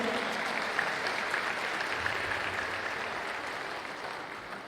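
An audience gives sustained applause at the 26th International Seminar on Problems of the Revolution, a steady, even clapping that fades slightly toward the end and sounds somewhat distant and quiet.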